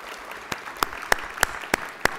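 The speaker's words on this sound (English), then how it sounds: "a round of applause to everyone who helped put this together" Applause for the organizing team at an economic forum panel discussion: a few sparse, separate claps, about six sharp hand claps spaced roughly evenly, fairly faint in a quiet room.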